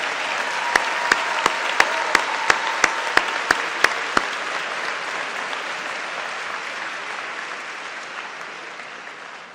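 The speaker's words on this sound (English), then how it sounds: "Let's give a big round of applause to all these new graduates." Graduation ceremony audience applauds new engineering graduates: steady, dense clapping that fills the hall, with a few sharp louder claps early on, then slowly fading toward the end.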